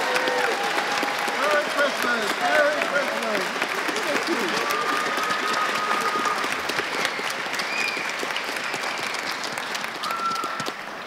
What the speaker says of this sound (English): how about a final round of applause for Sally the Clown, Marcos the Clown,